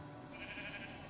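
A sheep in a multiplayer video game gives a short, faint bleat, brief and distant-sounding over low background noise.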